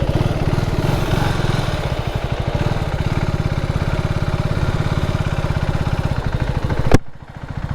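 KTM Adventure 390 motorcycle engine while riding: a loud, close, rapid single-cylinder thrum at steady revs with wind noise, ending in a sharp click and a sudden drop in level.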